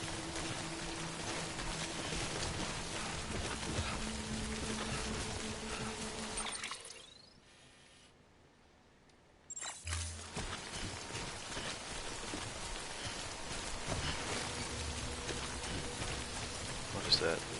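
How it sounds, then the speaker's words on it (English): Steady rain pours in the video game Death Stranding, a dense hiss of drops that briefly drops to near silence before resuming at full strength. "Good thing it was raining."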